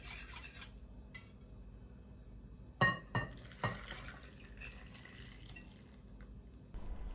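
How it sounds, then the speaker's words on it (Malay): A whisk clatters against a bowl while eggs and flour are mixed into waffle batter, giving a few sharp knocks followed by quieter scraping in an otherwise quiet kitchen. "Kacau adunan ni sehingga tepung halus dan tak berketul."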